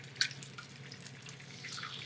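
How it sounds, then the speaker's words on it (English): Boiled kettle water is poured over PG Tips tea bags in a mug, a quiet steady splashing trickle with a small drip at the start, faint and without talk. "Pouring it over the tea bags"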